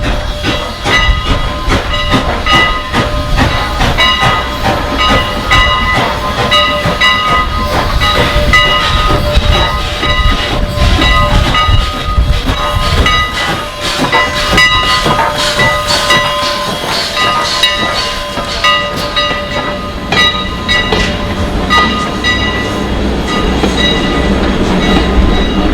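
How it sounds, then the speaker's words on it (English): A Strasburg Rail Road train rolls through Pennsylvania Amish country, a loud, steady rumble of wheels and hissing steam with rhythmic clatter. Sustained tonal whistle blasts sound over it, close and continuous for most of the stretch. "Train whistles out there"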